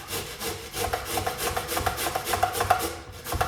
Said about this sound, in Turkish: Havuçları da rendeleyeyim.